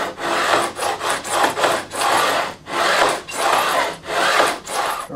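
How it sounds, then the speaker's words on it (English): A metal file rasps up and down at an angle across guitar fret ends on a Stratocaster neck, a close, steady sequence of about seven scraping strokes with brief pauses between them. "It's just a file at an angle, and we just run it up and down."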